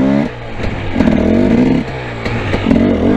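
A dirt bike engine revs hard in second gear during a wheelie, a loud close buzzing drone that surges and dips in waves, with rising pitch sweeps as the throttle opens.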